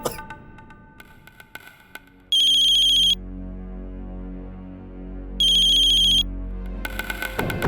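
A phone ringtone sounds in two loud, shrill bursts a few seconds apart, over soft background music.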